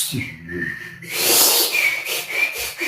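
A person whistles a rising, sustained tone to imitate a kettle, breathy at first and then shrill and wavering.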